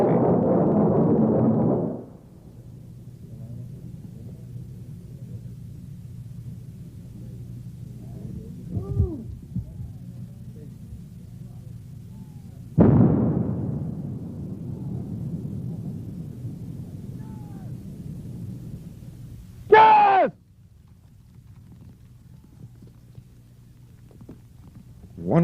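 Mine-clearing line charge detonations from the Desert Storm era, Gulf War: deep booming blasts open the sequence, another heavy boom arrives partway through with a long rumbling decay, and a sharper crack follows near the end.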